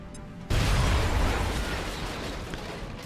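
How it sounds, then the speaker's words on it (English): A grenade detonates in the XCOM Long War strategy game, a sudden loud blast that cuts in abruptly and then rolls on as a sustained, dense rumble of debris and echo with no talking over it. "Grenade out."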